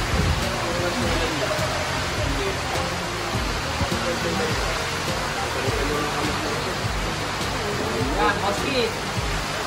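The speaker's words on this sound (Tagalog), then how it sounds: "napakalakas ng ulan dito. Bagyo talaga." Heavy storm rain during a typhoon blackout, a dense continuous hiss of downpour drumming on surfaces, loud and unbroken throughout.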